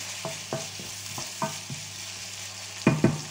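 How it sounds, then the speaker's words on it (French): Food frying in a pan is stirred, giving a steady sizzle broken by about half a dozen sharp scrapes and knocks of the utensil against the pan, the loudest two close together near the end. "Allez, on remue."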